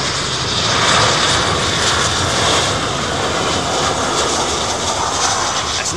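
A Copa Airlines jet at Miami airport roars steadily with broadband engine noise, loud and continuous with no pauses or voices.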